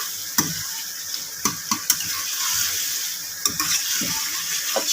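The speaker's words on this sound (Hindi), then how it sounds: "अच्छे से मैं भून रही हूँ।" Mutton pieces and boiled turnips with spices sizzle steadily in a pan over medium-high heat, with a continuous frying hiss broken by sharp spoon scrapes and clinks as the mixture is stirred.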